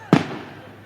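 A single sharp firecracker bang nearby during a public meeting in Nuzvid, followed by a quickly fading echo.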